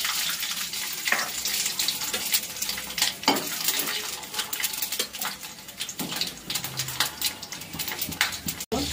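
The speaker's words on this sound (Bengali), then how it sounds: "গরম হয়ে গেছে, এখন দিয়ে দেবো তেজপাতা। পাঁচফোড়ন দিয়ে দিচ্ছি।" Bay leaf and panch phoron hit hot oil in a small home kitchen, a steady close sizzle and crackle with utensil clinks and stirring scrapes against the pan.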